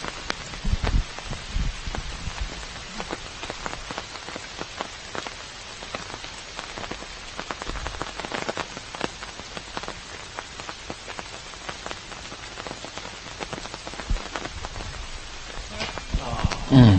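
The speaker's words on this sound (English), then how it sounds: "And Robert, as I was hearing the raindrops come onto our umbrella here" Steady rain patters on an umbrella over commentators at the 2017 Vibram Open disc golf tournament, a dense, even drumming of drops throughout with a few louder taps.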